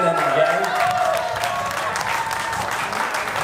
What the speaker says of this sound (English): So please clap for the young ones here, Bethany and Gang and Ferdinand and Gang.